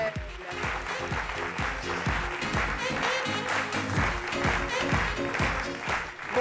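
An audience applauding at a French midday show, steady clapping mixed with rhythmic thumping beats of music throughout, moderately loud.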